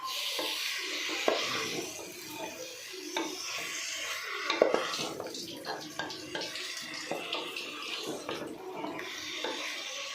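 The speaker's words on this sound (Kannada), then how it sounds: "ಇದನ್ನು ಚೆನ್ನಾಗಿ ಮಿಕ್ಸ್ ಮಾಡಿಕೊಂಡು ಇದರಲ್ಲೇ ಸ್ವಲ್ಪ ಹೊತ್ತು ಫ್ರೈ ಮಾಡ್ಕೋಬೇಕು" Chicken yakhni pulao mixture with a quarter kilo of chicken frying and being stirred in a pan, a continuous sizzle with scraping and clinking of the spoon against the metal, fairly close and moderately loud.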